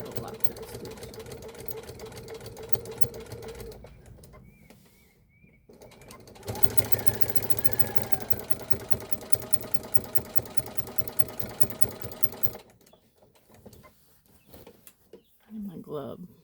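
A sewing machine stitching in the ditch while machine quilting a wall display runs in steady, rapid mechanical bursts, pausing briefly before starting again; the motor hum is close and fairly loud.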